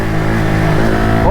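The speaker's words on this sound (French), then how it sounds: "quand j'ouvre les gaz, elle a envie de lever mon copinou" KTM 690 SMCR supermoto motorcycle at full throttle: a loud, close single-cylinder engine drone that holds steady and then climbs in pitch as the revs rise.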